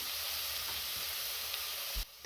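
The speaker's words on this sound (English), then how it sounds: "I'm going to let that brown off" Onions browning in a pot while making dirty mac and cheese give a steady, moderate sizzle throughout, with a faint clink near the end and no voices.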